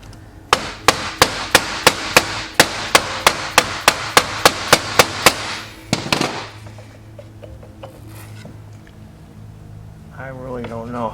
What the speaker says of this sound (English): Let me get a plastic hammer.